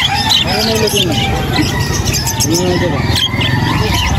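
Lovebirds and parakeets chirp and tweet in short overlapping calls at a busy pet market stall, heard under steady crowd noise and nearby conversation.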